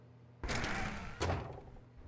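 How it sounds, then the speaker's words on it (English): A door opening in The Stanley Parable video game, heard as a loud broadband whoosh followed by a second sharp thunk about a second later, close and alone with no talk. "When Stanley came to a set of 2 open doors, he entered the door on his left."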